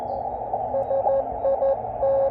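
Faint, noisy reception of a distant American amateur radio station on an Elecraft KX2 with a mini-Buddistick antenna, steady hiss and short bursts of a thin tone coming and going.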